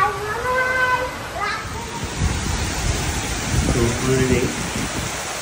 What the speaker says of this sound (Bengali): বৃষ্টি শুরু হয়ে গেছে, এই দেখেন মুষলধারে বৃষ্টি হচ্ছে